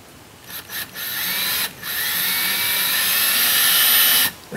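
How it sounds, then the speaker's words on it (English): A power drill drives self-tapping screws into floor boards in a tiny house on wheels, with a couple of brief starts followed by a steady, high-pitched whine that holds for several seconds before stopping. "I'm just sinking the screw in a tiny bit"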